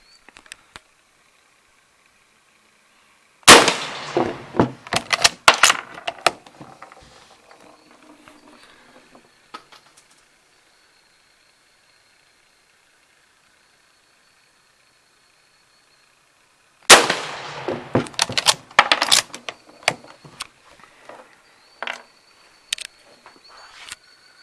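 Two separate bursts of loud gunfire from an 1895 Chilean Mauser rifle at an outdoor range, each a sharp crack followed by a cluster of rapid echoing reports and clatter, separated by a long quiet gap.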